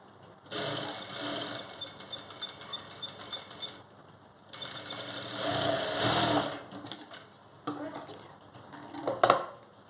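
A sewing machine stitches a cross belt on a designer blouse, running in steady whirring bursts with short pauses between them, close and clear, with small clicks of the mechanism and no talking.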